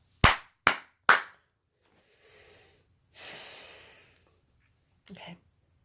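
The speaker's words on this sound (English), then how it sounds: "I need to clap." Three sharp, loud hand claps in quick even succession open the moment, followed by soft breathing and sighing sounds and a brief vocal noise near the end.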